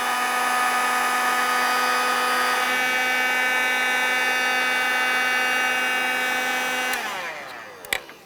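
A heat gun warming the adhesive behind the grille emblem of a 1998-2002 Lincoln Navigator gives a steady, loud whining drone that holds evenly for about seven seconds, then cuts off and is followed by a faint click.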